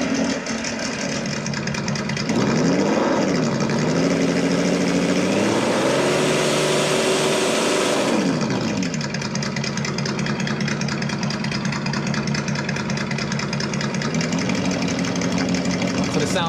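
A Sense ESS-Dual sound kit in a Traxxas TRX-4 Bronco RC crawler plays a simulated engine idle, with synthetic rises and falls in pitch as the truck moves. The sound is close and steady, and a person talks briefly over it.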